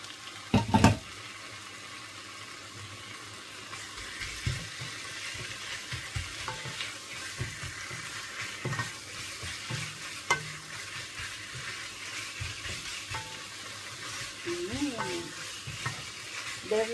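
Mixed vegetables stir-fried with sesame seeds in a pan, giving a steady low sizzle with scattered scraping and stirring clatter and a few sharper knocks, continuous throughout with faint background noise.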